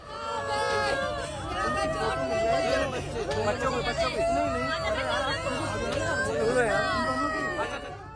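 An angry crowd of grieving relatives blocks the Meerut highway in Ghaziabad after 25 deaths, with many voices shouting and talking over each other in a dense, continuous clamor, some raised cries standing out.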